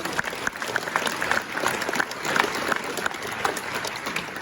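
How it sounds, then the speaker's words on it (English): Banquet audience at a school reunion in Hecla, South Dakota applauds steadily, a dense wash of clapping at moderate level throughout with no talk over it. "So, round of applause, please."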